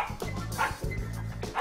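Dog barking in the video game The Marvelous Miss Take, several quick close barks in a rhythmic burst.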